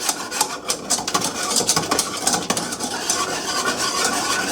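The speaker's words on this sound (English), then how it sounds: "I'm going to mix it up real good" Spoon scraping and swirling through panna cotta mixture in a pot on the stove, a steady broadband rasping stir with irregular clinks, close and continuous with no talk.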